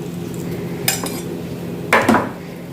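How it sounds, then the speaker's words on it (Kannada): Jackfruit batter mixed with rice grits in a bowl, with two distinct scraping, clinking knocks of a utensil against the bowl over a quiet background. "ಹಾಕಿದ ಮೇಲೆ ಒಳ್ಳೆ ಮಿಕ್ಸ್ ಮಾಡಿಕೊಳ್ಳಿ"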